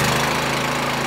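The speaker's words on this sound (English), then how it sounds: "Mower started." A lawn mower engine runs steadily just after starting, a loud, close, continuous drone with a rough mechanical hum and no voices.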